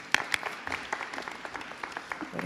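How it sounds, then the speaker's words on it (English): An audience at a board meeting claps for a few seconds with scattered hand claps. A couple of sharper claps stand out at the start, and the applause stays fairly faint and roomy throughout. "Let's give him a round of applause."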